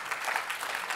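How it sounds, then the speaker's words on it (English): Audience applause following a poetry reading, a steady dense patter of many hands clapping together at moderate loudness throughout, with no voices over it. "You guys don't have to clap."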